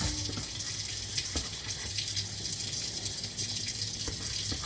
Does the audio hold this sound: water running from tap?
yes